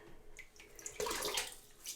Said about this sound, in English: We're going to wring out the excess water of the Wolf Whiskers brush.